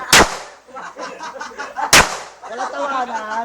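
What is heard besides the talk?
gunshot at a firing range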